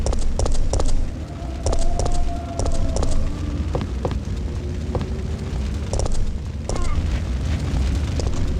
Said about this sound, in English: I hear some people moving around.